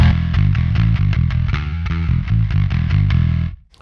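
Bass guitar played through the Aurora DSP Mammoth plugin with the Brute setting off, giving a loud, distorted tone in a steady run of quick, evenly picked notes that stops abruptly at the end.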